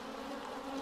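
Honey bees buzz steadily around an opened hive, a dense, continuous drone close by with no talking.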